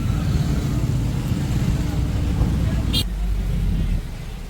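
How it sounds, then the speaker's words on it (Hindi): A vehicle sits in a long roadside traffic jam, a steady low engine and traffic rumble heard from inside, with someone talking over it and a brief higher tone near the end. "जाम बहुत लग रहा है, बहुत दूर तक जाम है।"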